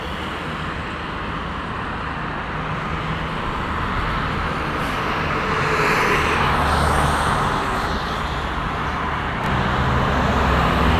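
A Sinar Jaya bus goes by on a busy toll road, its engine rumble swelling within steady heavy traffic noise, loud and close, with no voices.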